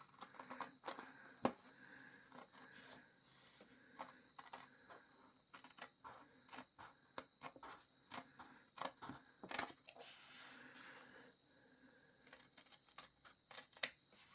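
Scissors trim the edge of a decorative journal page with quick, close, crisp snips in irregular bursts, quiet and without talk.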